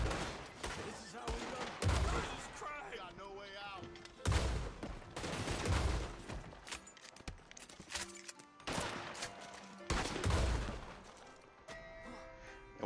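Dual sawed-off shotguns blast away inside the Blackwater Saloon in Red Dead Online, loud booming shots in repeated dense bursts over a continuous background of game noise.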